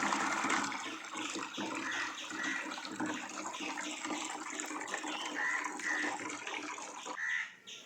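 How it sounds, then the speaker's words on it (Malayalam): Water pouring steadily into a betta fish tank as it is filled, a continuous rushing, splashing wash that stays fairly even and then briefly dips near the end. "അപ്പോൾ ടാങ്ക് ഏകദേശം നമുക്ക് ഫുള്ളായിട്ട് നിറഞ്ഞിട്ടുണ്ട്."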